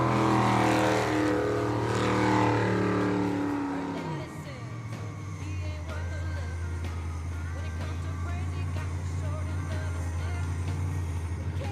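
Racing boat engines at an ASBR pro racing event in Yakima, Washington roar loudly at high RPM, the pitch dropping sharply as the boat sweeps past, then settling into a steady distant drone.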